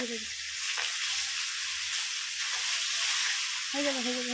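Oil spits and crackles steadily as borali fish fries in a covered wok, a dense, close sizzle that runs throughout, with a voice speaking briefly at the start and again near the end.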